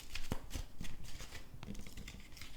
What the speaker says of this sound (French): on va quand même bien frapper les cartes